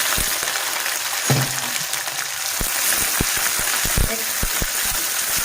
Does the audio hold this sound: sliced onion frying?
yes